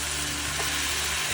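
Chilla batter hitting an oiled pan with a steady, close sizzle that fills the short moment, with no voices.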